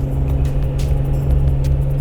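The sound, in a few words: Jeep Wrangler JK engine climbing a hill at high RPM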